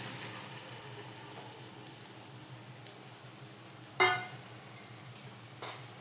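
An egg fries in a pan after sautéing, giving a soft, steady sizzling hiss with a couple of sharp utensil clinks against the pan near the end.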